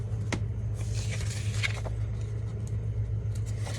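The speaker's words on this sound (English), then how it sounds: "I am on a main street, so I do have a lot of traffic noise." Steady traffic rumble on a busy main street, with cars passing continuously at middle distance and a low engine drone throughout.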